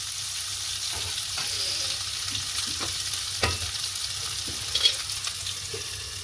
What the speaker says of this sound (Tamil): வெங்காயத்தை போட்டு நல்ல வடிவாக கிளறி விடணும்